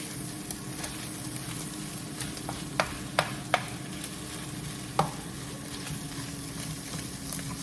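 Ground turkey fries at lower heat in a pan while a utensil breaks it into smaller pieces, giving a steady soft sizzle under a few sharp scraping clicks and taps, with no voices.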